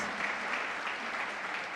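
A church congregation applauding, a dense, steady wash of clapping from many hands sustained for the full moment.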